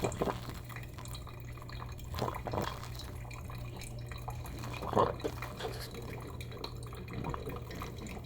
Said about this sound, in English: this is an automatic drip machine